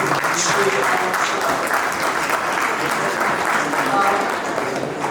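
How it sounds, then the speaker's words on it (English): A large audience at a Model United Nations closing ceremony at a college breaks into continuous, full applause that holds steady throughout. "So can we please have a big round of applause for"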